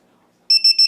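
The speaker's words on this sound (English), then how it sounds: "It's supposed to make that noise when you plug it in, but then once you do plug it in, it'll stop." An electrical assembly's buzzer sounds when plugged in: three short, loud, high-pitched electronic beeps in quick even succession after a moment of near silence.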